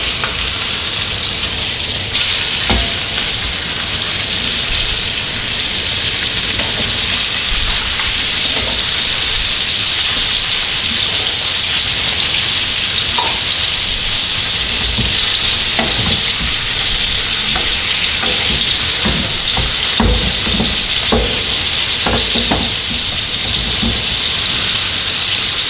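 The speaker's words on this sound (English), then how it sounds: "You want a nice brown, crispy, seared side on the steak." A T-bone steak sears in a hot pan on the stove, giving a loud, continuous sizzle and spatter with intermittent sharp pops and clinks from moving it around, no voices.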